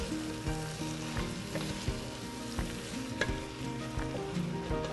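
A sauce mixture of garlic, hot sauce and sriracha sizzles in a pan while a utensil stirs it, giving repeated scraping strokes and soft clatters over a continuous frying hiss, close and fairly loud.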